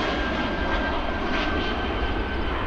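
A steady, loud airplane engine roar at Chicago O'Hare International Airport, continuous and even throughout with no talking.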